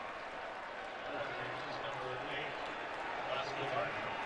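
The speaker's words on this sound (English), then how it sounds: "listen to this crowd as they drop Glasgow Martin" Stadium crowd at a Baylor Bears versus Kansas State Wildcats college football game roaring after a ball carrier is tackled, a dense sustained roar under a commentator's voice.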